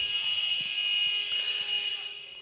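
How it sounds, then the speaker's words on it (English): A steady, loud electronic buzzer sounds at half-time across both pitches of a schools netball match in an indoor arena, holding one continuous tone for the whole stretch before easing slightly at the end. "there's the buzzer on both pitches"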